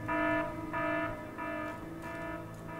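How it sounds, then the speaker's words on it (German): Alarm in the video game Evil Genius sounds as a pulsing electronic buzzer, repeating in short tonal bursts about every two-thirds of a second, fairly quiet and alone without talk. "Also machen wir kurz Alarm."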